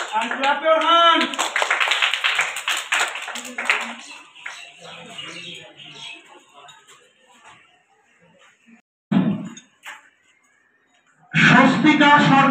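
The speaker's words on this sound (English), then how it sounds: "And clap your hands." Children applaud reading competition winners, a burst of clapping mixed with a voice at the start, fading into quiet, then a short clap around the middle and a loud renewed round of applause at the end.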